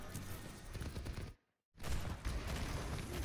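Rapid enemy gunfire in Overwatch, a dense rattle of shots that cuts out briefly into silence and then resumes just as heavily.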